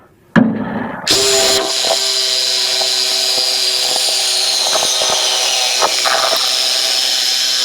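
Power saw slicing through the exhaust pipe of a 1964 Ford F250 4x4, starting with a sharp bang and then a steady, loud, close grinding whine that runs unbroken, with occasional clicks and knocks.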